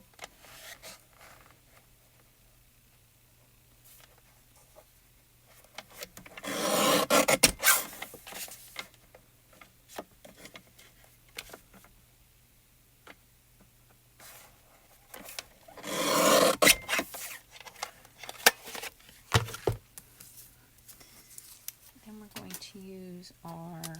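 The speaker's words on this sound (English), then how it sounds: "I'm going to use my Gina K trimmer. I'm going to cut this down to 5 by 3" A Gina K paper trimmer slices cardstock down to size in two separate sliding strokes, each a close, gritty rasp lasting a couple of seconds, with soft handling noises between them.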